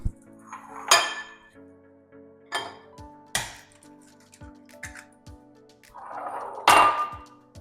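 A utensil beats eggs in a bowl for a creme caramel, with several sharp clinks against the bowl at irregular intervals and soft wet swishes in between, close and clear with no talk.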